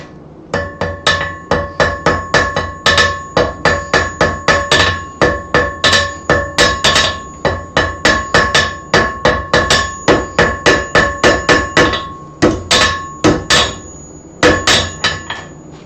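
Hot steel hammered on an anvil during forge welding and drawing out, a fast steady run of loud ringing metallic blows in quick bursts with brief pauses, close up and alone.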